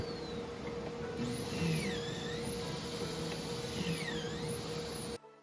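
A drill bores pocket holes into poplar boards using a pocket hole jig, a steady whirring motor with a high whine that rises and sweeps down twice, at moderate distance over a low hum.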